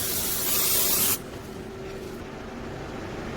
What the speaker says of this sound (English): I'm just about to spray the pan with some